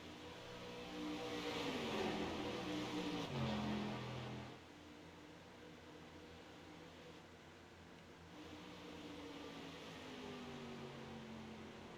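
Race cars jostle for fifth place on a circuit, their engines a faint, distant droning whine that rises and falls with shifting pitch as they pass through.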